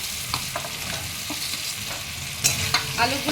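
Fried potatoes stirred into a spice masala in a pan for a vegetarian banana-flower kofta curry. A steady sizzle runs throughout, with scattered scraping stir strokes and a sharper clatter near the end, and no voices.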